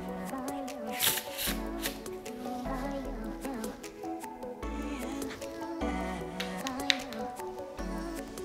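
Fox playing cards riffled and fanned in repeated bursts of crisp fluttering clicks, close and fairly loud, with a low musical tone running underneath.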